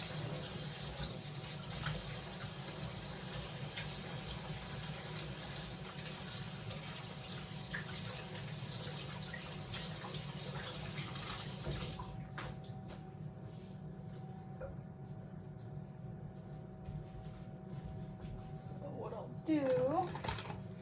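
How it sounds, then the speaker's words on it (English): A kitchen tap runs steadily into a sink while hands are washed during cooking, a continuous close splashing stream that shuts off partway through, with a brief voice near the end. "wash my hands really quick"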